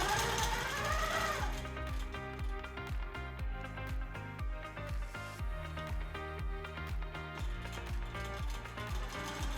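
A QMP 16 quilting sewing machine stitches binding onto a quilt, its needle pounding out a steady, rapid mechanical chatter with a low rhythmic thump that runs continuously and evenly throughout, with no voice over it.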